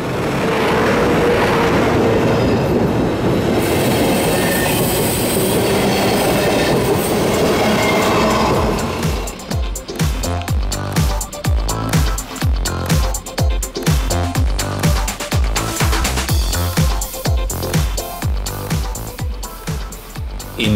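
A class 111 electric locomotive, number 111 037, hauls a regional train of n-Wagen passenger coaches. It opens with a loud, steady roar, then turns to a close, rhythmic clickety-clack of wheels over rail joints as the coaches pass.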